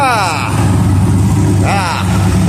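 An American muscle hot rod running race fuel revs loudly and steadily up close, its deep rumbling engine holding constant with two rising rev sweeps, first at the start and again near the end.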